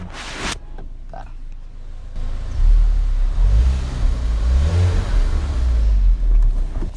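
A Range Rover Evoque Coupe's four-cylinder turbo engine revs loudly and close by, rising from a start into a sustained, rumbling roar with fluctuating pitch after a brief door or handling sound.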